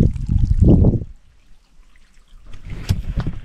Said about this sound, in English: Water is running along quite nice.